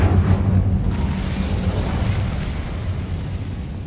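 Incendio fire spell cast in the video game Hogwarts Legacy, a loud whooshing burst of flame that starts strong and then roars and fades over several seconds.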